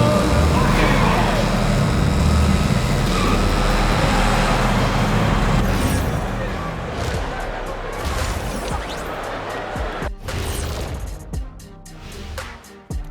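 Car engines revving at a halftime stunt show in the basketball game NBA 2K26, a dense roar of motors mixed with crowd noise that gradually thins out, with a few sharp bangs near the end.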